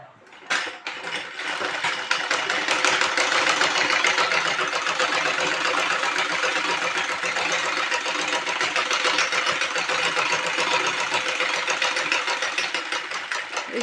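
Sewing machine stitching the neckline of a prince cut blouse, a steady, close, rapid mechanical whir running continuously without pause.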